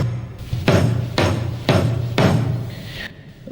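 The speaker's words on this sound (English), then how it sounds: "it gives like a big, low, thumpy kick drum kind of sound" Hand striking a drum head without pressure to make a big, low, thumpy kick-drum sound, four heavy booming hits spaced about half a second apart over a steady low hum, close and loud.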